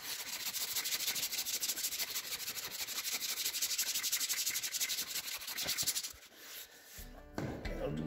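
A farrier's rasp dresses the bevels of a horse's hoof during hot shoeing, making a fast, steady run of close, loud rasping strokes that stop abruptly near the end.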